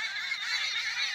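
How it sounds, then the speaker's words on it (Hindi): Birds in an acacia tree keep up a dense, steady chorus of high chirping calls, continuous and fairly close, with no voices. "आप चिड़िया की आवाज़ सुन सकते हैं।"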